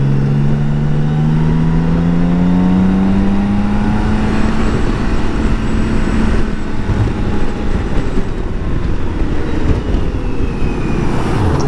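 A BMW K1600 GTL six-cylinder motorcycle engine revs and pulls hard on sweeping roads, its rising and falling whine loud and close over continuous wind rush, with no talking.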